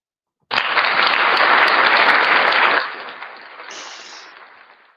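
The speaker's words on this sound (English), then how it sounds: "I had to give you that little applause" A burst of applause breaks out abruptly from silence, holds loud and even for about two seconds, then drops quickly to a softer fading patter with a brief thin sound near the end.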